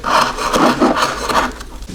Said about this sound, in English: using a very sharp knife we just want to trim this all the way around the edge